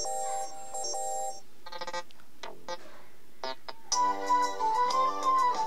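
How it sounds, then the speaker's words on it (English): A melodic electronic ringtone on a Lenovo Tab M10 plays alone, with a few flute-like tonal phrases, brief pauses, then a brighter repeating melody toward the end. "This selector tone will be set as phone ringtone."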